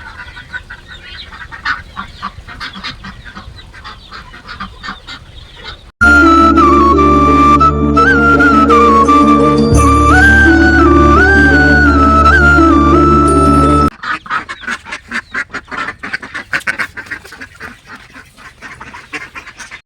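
Domestic village ducks in Karur quack in a busy, close chorus at the start and again at the end, with a stretch of music cutting in between.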